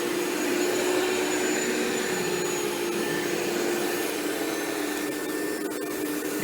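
A Rainbow E2 canister vacuum with its power brush runs on carpet, giving a steady, close motor whine with a constant high tone and no break over the stretch.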